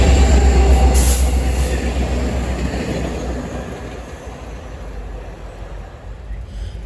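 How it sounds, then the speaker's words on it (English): An FRA train passing at speed, captured from a makeshift tripod on a branch: a loud, steady rush of wheels and rail noise that gradually fades, with no voices. "the FRA train passing."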